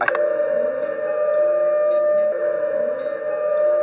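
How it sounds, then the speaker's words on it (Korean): A civil defense drill siren wails steadily in the distance, a sustained droning tone holding at one pitch with faint ticking and background noise throughout. "네, 방금 경보가 울렸습니다."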